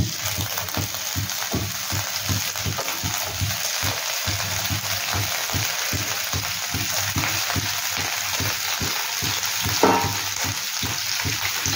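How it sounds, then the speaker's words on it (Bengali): Cauliflower florets fry in hot sunflower oil, a constant bright sizzle with a faint pulsing rhythm and one brief louder crackle near the end, heard alone without talk. "ফুলকপিগুলোকে একটু হালকা ভেজে নেব। তেলটা একটু গরম হোক, তারপরে এগুলোকে আমি একটু ভেজে নেব।"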